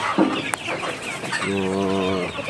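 Native chickens in a backyard, close and clear: short clucks followed by a drawn-out, tonal hen call that carries to the end.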